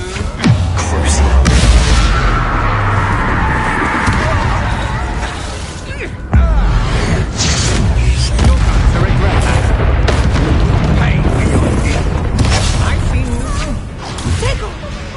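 Fire-blast spells go off in a wizard video game: heavy booming explosions with crackling, shattering debris, loud and close, repeating over a sustained noisy stretch with a sharp new blast midway.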